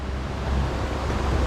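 Jungle waterfall: a steady, broad wash of rushing water, loud and continuous with no breaks and no voices.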